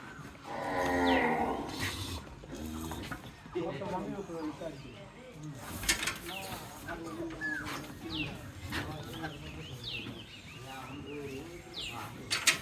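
A cow mooing repeatedly at close range, with a young heifer calf beside a big red cow, long drawn-out calls spread across the span while people talk over them and birds coo faintly.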